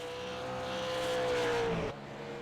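A race car at the New Smyrna Western Super Series 100 roars past at a short-track oval, its engine note sliding downward as it passes close by, then cutting off abruptly.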